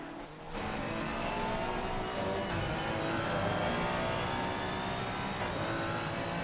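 Race cars, including a Nissan GT-R, roar steadily in a racing video game, a dense, continuous engine drone with no pauses.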